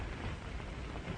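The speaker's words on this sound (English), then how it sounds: "Oh, is it raining outside?" Steady rain pours outside with a low rumble of thunder underneath, a dense, continuous wash of noise with no voices.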